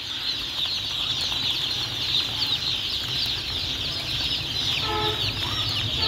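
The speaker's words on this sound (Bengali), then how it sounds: "সকল প্রকার বয়সের টাইগার মুরগি আমাদের এখানে পাবেন, অরিজিনাল টাইগার।" Tiger breed chickens cluck and call in a poultry pen, with many birds murmuring close together under a constant hum and a clearer run of clucks toward the end.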